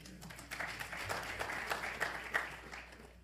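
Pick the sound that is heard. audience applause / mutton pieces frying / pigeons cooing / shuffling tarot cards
audience applause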